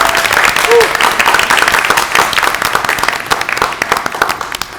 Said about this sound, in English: how about just one more general round of applause for all of our students this evening